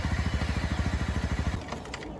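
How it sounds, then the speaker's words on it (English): Motorcycle engine cranking over with a steady rapid chugging pulse, close and loud, before the rhythm breaks off into a rougher running rumble near the end. "pull in the clutch and start up the bike"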